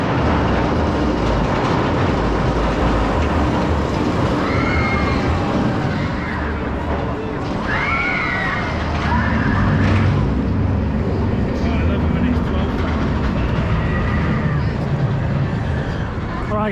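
Amusement ride cars rumble and clatter along the track at Alton Towers on opening day, a steady loud rolling noise with faint screams and crowd voices rising over it.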